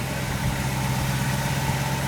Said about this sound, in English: The engine is up to operating temperature and things look good.